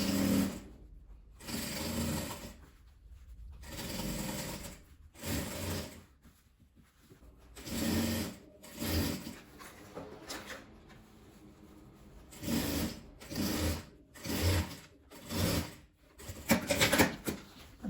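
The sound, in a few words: sewing machine sewing bias binding onto a denim apron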